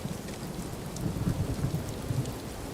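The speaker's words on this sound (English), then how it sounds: "Is it raining? We get weather? Oh, snap. I wonder... Oh, lightning, too" Rain and rumbling thunder in the survival video game Rising World: a steady hiss of rainfall on surfaces over low, rolling thunder that swells in the middle, with no voices.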